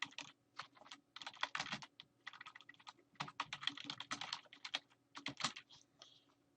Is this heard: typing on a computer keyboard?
yes